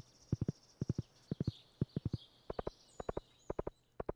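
Horse hooves clip-clop in Stardew Valley, a crisp, close series of paired and tripled hoofbeats in a steady walking rhythm, alone against a faint background.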